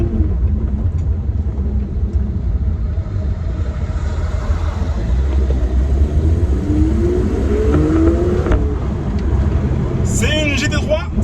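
A Porsche GT3 992 sports car drives with a steady loud engine rumble and a rising rev in the middle, under continuous talk in French.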